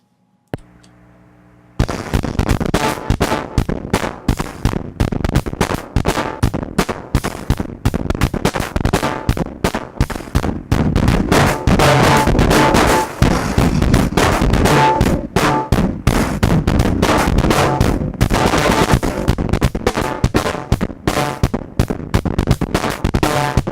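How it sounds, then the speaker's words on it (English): Loud, heavily distorted drums reamped through a fuzz pedal pound continuously after a brief quiet start, fuzzy and crushed, with hissy breathy noise between the hits. "you get these weird like breath sounds in between the drum hits"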